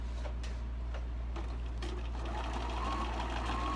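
A sewing machine stitches a seam, a faint rapid mechanical ticking over a low steady hum, with a few sharper clicks and no talk.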